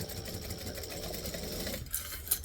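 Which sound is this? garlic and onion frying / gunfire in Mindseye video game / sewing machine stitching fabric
sewing machine stitching fabric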